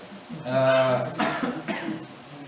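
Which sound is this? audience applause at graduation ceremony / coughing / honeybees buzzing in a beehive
coughing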